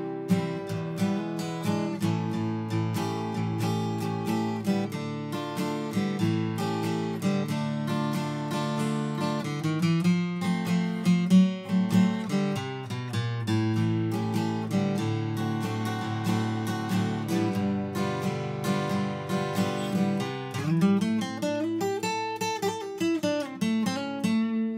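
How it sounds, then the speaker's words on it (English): Acoustic guitar picked with a plectrum in a relaxed unplugged blues style, a steady stream of crisp, bright notes and chord fills played alone at moderate volume. "you always get a little bit more of a crisp sound when using a pick"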